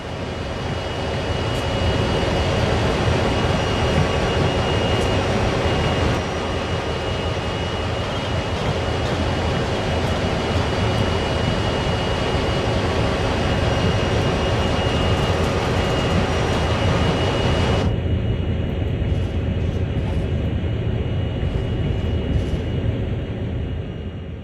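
CSX heavy-haul locomotive coasting in Train Sim World, a loud steady rumble of engine and rolling wheels that holds even for about eighteen seconds, then thins as the upper hiss drops away while the low drone continues.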